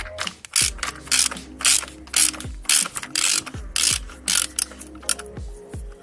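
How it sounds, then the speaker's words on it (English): Ratchet clicking in several quick bursts, each one a run of sharp, close pawl ticks, as it tightens the bolt on a DSG S-Tronic gearbox oil filter housing during a VW Audi service. "You could torque it up to the spec, or you could just leave a mark"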